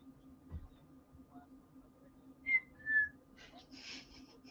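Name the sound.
whistled bird call imitation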